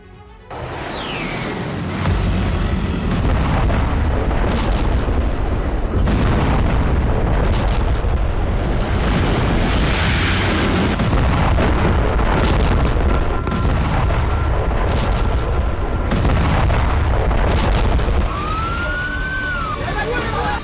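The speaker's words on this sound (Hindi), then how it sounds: "सीरिया में धमाके के बाद उठता ये लपटों का गुबार और चिंगारियां इजरायल के हवाई हमले का नतीजा है" Loud, dense rumbling blasts and booms from an Israeli airstrike in Syria fill the scene continuously, with sharp impacts and a rising whine near the end, no clear speech.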